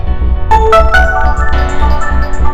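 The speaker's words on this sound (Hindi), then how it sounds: "रिया का फोन है।" A phone rings in a domestic scene, with bright chiming ringtone notes sounding in a quick melodic sequence over a low background hum.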